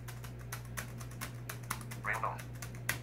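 Fingers type a folder name on a BrailleNote braille keyboard, producing a steady run of light, close key clicks over a constant low electrical hum, with a brief synthetic chirp near the end.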